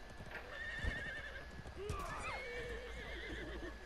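A horse in a medieval battle video game neighs and whinnies over the clip-clop of galloping hooves and battle noise, with a player talking over it.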